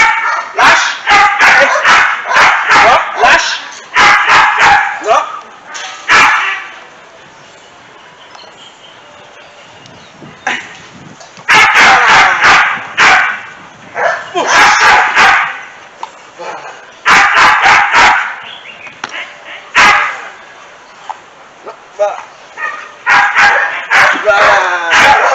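A dog barks repeatedly during a training session, loud and close, in rapid bursts separated by short pauses across the whole stretch, with a trainer's voice heard between the barks.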